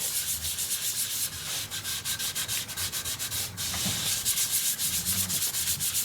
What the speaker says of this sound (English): I'm trying Yorkshire grit